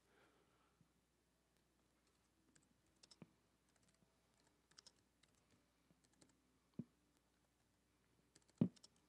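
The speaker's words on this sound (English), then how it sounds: "Try typing with the microphone in one hand." Typing on a computer keyboard during a vinyl ripping session, with sparse irregular clicks and a few louder key strikes near the end, fairly quiet and close, with no talking.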